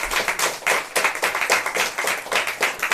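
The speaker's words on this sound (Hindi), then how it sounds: "क्या हम अपने प्यारे यीशु को जोरदार ताली देंगे कि नहीं?" A church congregation claps loudly for Jesus during a service in Varanasi, a dense burst of many hands clapping in waves, strong and close, with no voices over it.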